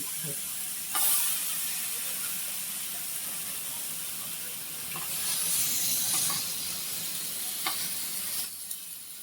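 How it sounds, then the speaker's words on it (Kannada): Half-hour-marinated fish frying on a hot tawa, a steady loud sizzle and hiss with a few sharp crackles and spatters close by. "ನೋಡಿ ಇವಾಗ ಇಟ್ಟಿದೀವಿ ಸ್ವಲ್ಪ ಹಂಗೆ ತವಾ ಫ್ರೈ ಮಾಡೋಣ"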